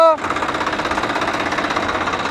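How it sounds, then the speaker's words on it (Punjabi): Two tractors, a Swaraj 855 and a Mahindra Yuvo 585, run disc harrows in a field, producing a close, loud, steady engine drone with a fast rhythmic knocking pulse and a brief tonal sound at the start. "ਦੋ ਟਰੈਕਟਰਾਂ ਨੇ ਤਵੀਆਂ ਚਲਾਉਣੀਆਂ"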